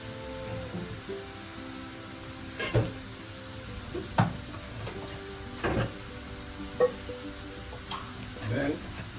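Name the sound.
veggie chunks frying with onion, garlic and toasted curry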